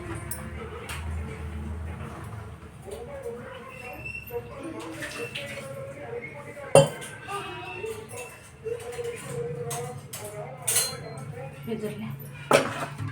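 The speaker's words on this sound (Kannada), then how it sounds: "ಈಗ ಹಾಕ್ಬಿಡ್ತೀನಿ ಬಿಸಿ ಬಿಸಿ ಪಡ್ಡು" Utensils clink and tap while paddu is made from a rava and curd batter in a home kitchen, with sharp metallic knocks near the middle and end over steady background noise.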